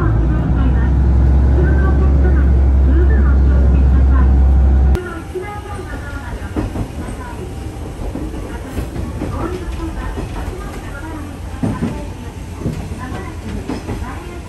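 A loud low rumble fills the inside of a moving Ishinomaki Line local train in Japan, then drops abruptly to quieter rattling and clatter as a voice speaks on arrival at a transfer station.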